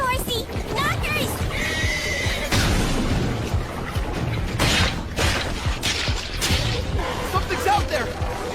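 Horse neighing in an anime, a shrill whinny cutting through layered action sound effects, with hoofbeat-like thuds and crashes around it and dubbed voices speaking nearby.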